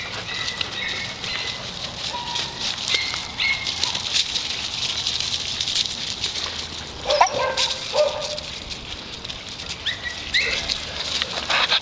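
Several small dogs at a dog ranch on a chilly, overcast morning patter about nearby, with scattered yips and barks rising over a steady rustle of movement and paws.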